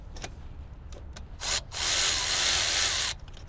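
Hand tool tightening a part on a Chrysler 200 during a P0128 coolant-temperature repair, heard as short scraping bursts and then a sustained grinding, ratcheting rasp for over a second, close and fairly loud.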